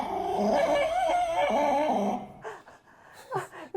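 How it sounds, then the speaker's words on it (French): A Jack Russell terrier growls in a tense, rumbling run for about two seconds, then breaks into several short whimpers and yips, fairly close and fairly loud. "Il est tellement déçu, le petit chien. Il est tellement déçu. Un Jack Russell."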